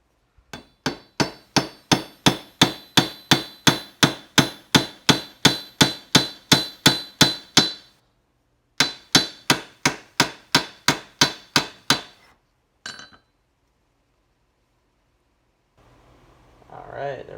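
A hammer strikes a rivet head again and again to mushroom it while shoulder armor is assembled. The close, sharp blows come in a fast, even rhythm, pause, resume for another run, then end with a final tap.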